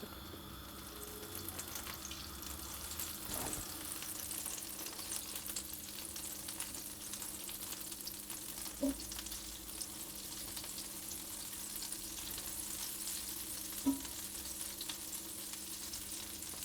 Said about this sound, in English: I'm going to put in about a tablespoon of my oil and the same of my butter, and I'm going to let those melt.